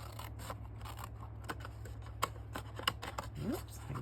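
Scissors snipping through paper to a center point while making a 6x6 multi-pocket craft page, giving short dry cuts and crinkles at an irregular pace over a steady low hum, close to the microphone.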